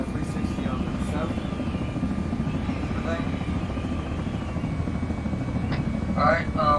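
A helicopter in flight before landing drones with a steady, close rotor rumble throughout, while radio voices talk intermittently over it.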